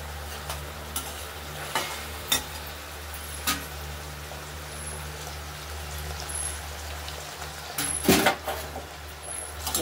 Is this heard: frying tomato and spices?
yes